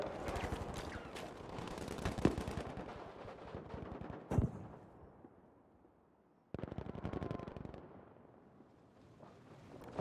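Rapid FG-42 machine gun fire in Battlefield V during a competitive match, dense bursts of close shots with sharp cracks, pausing briefly before another volley.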